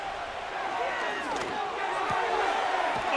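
A stadium crowd in the Madden NFL 25 football game, Tampa Bay Buccaneers against Los Angeles Chargers, roars as a dense, steady wash of cheering that holds loud and continuous throughout, with voices talking over it.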